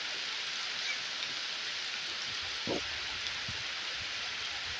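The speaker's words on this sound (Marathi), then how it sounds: "तर आता पाऊस इलेलो हा, त्याच्यामुळे जरा काम थांबणार आहे आपला." Steady rain falls over village farm fields during millet planting. It makes a constant, even hiss with a few faint nearby knocks and no voices.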